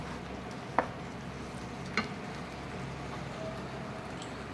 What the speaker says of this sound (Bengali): পনিরটাকে আমি অ্যাড করে দিয়ে ভালো করে নাড়াচাড়া করব